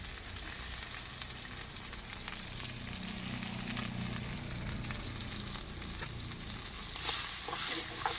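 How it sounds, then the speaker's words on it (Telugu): Onions fried with curry leaves for a lorry-cab cooking meal crackle and sizzle steadily in a pan, with continuous frying hiss and occasional stirring clatter, close and without talk. "తర్వాత చూడండి ఏం వేస్తున్నాడు, ఆనియన్స్. ఆనియన్స్ వేస్తున్నాడు."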